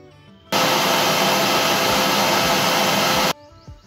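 A mixer grinder whirs loudly and steadily for about three seconds, blending buttermilk with ice cubes, cold water, cumin, salt and black salt, then cuts off abruptly.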